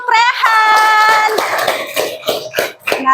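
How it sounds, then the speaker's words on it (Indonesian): Applause for a student named Rehan in a classroom: after a brief sung or voiced tone, a few scattered, separate claps ring out close by. "Ya, tepuk tangan untuk Rehan."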